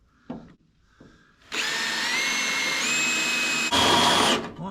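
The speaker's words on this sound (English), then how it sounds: "So I'm going to drill these out and get this out." Power drill whines steadily as it bores out spot welds on a 1978 K5 Blazer body, starting after a couple of brief taps and running continuously at close range with a slight pitch shift near the end.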